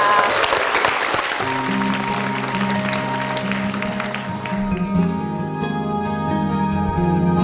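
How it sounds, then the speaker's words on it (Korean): Broad, hissing audience applause welcomes performers onto a televised concert stage, loud at first, then thinning as sustained music tones rise and take over. "여러분 큰 박수로 환영해 주시기 바랍니다"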